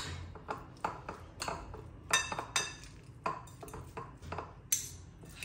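Endive salad tossed in a bowl with a spoon, giving a run of light clinks and scrapes of utensil against the dish in an irregular rhythm, close and fairly crisp.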